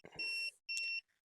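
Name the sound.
beep of a digital aura scanner machine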